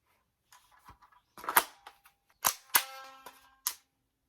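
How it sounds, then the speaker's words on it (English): A Voswuen M4A1 gel blaster fires several sharp semi-auto shots in a basement, each a crisp snap followed by a brief mechanical rattle, spaced irregularly and heard close with no talking. "I'm down in my basement for the firing demo of the Voswuen M4A1"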